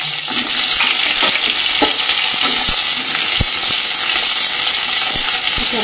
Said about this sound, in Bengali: চলো বেগুনগুলো ভাজা করে নিই।